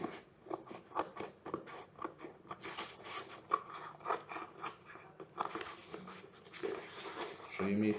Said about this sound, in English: Now, I will take my pair of scissors and trim it